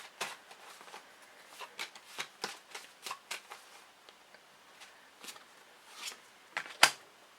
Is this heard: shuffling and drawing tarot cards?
yes